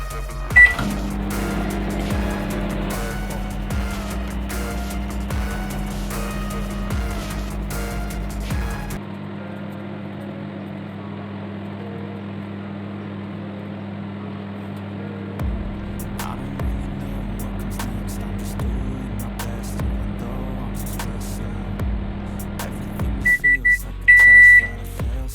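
A microwave oven runs with a constant low hum and droning buzz for over twenty seconds, ending with a few beeps as it stops.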